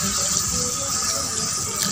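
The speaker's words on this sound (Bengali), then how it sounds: "তো এর মধ্যে এবার দেব 1 বাটি দুধ, পুরো রান্নাটা দুধেই হবে।" Milk pours from a bowl into a pot of Kashmiri aloo dum with chana and peas, a short steady gushing splash that stays close and even throughout.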